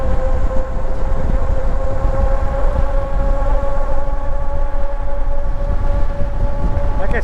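A Lectric 2.0 Plus e-bike runs on throttle only, its motor giving a steady tonal whine over heavy rumble and wind noise throughout the ride.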